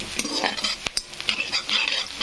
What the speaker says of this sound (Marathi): तर छानपैकी असा कांदा तळत आहे